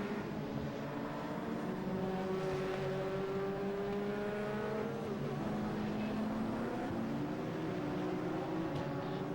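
Sports and saloon racing cars lap Oulton Park in the closing minutes of a championship race, with engine notes rising and falling steadily at a distance and no gaps between them.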